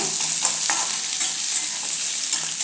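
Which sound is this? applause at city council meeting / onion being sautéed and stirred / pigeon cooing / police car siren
onion being sautéed and stirred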